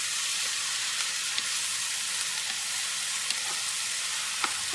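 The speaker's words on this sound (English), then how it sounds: "I'm going to let that soy sauce cook." Soy sauce cooks into fried rice in a hot pan, giving a loud, even sizzle with a dense hiss throughout and a few faint scattered pops and clicks, with no talking.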